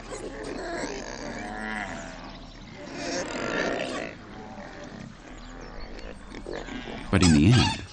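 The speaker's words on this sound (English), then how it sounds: "aside from the squeals of the pigs" Livestock at a watering place, with pigs squealing among cattle; a dense, continuous mix of animal cries runs throughout, ending in a loud, harsh squeal burst near the end.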